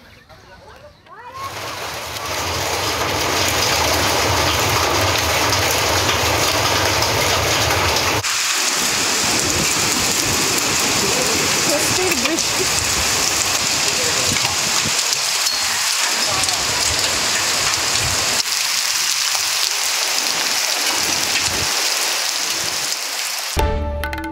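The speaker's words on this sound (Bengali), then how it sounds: "পুরুলিয়ায় যেমন বৃষ্টি হচ্ছে, তেমন বাঁকুড়ায় শিলাবৃষ্টির ছবি দেখতে পাচ্ছেন আপনারা" Heavy rain and hail pour down in a loud, continuous roar, with a busy spattering texture as they hit surfaces; a voice speaks over it. In Purulia and Bankura, West Bengal.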